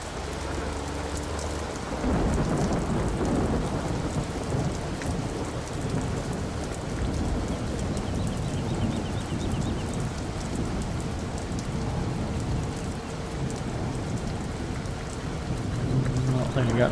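Steady rain with rolling thunder from Farming Simulator 15, a constant dense downpour that swells louder after the first two seconds and holds without a break, with low rumbles running under it.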